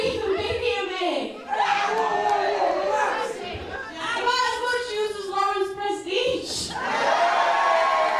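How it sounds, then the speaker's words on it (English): A raucous crowd at a live wrestling event, a steady roar of chatter, shouts and cheers filling the hall throughout, with voices rising and falling in waves. "In fairness, it's quite noisy in here. It's a raucous crowd."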